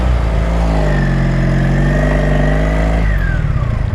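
A 1983 Honda Sabre VF750S V4 motorcycle pulls away on a test ride in heavy traffic, its engine revving loud and close with a smooth rising whine that drops off as the rider shifts near the end.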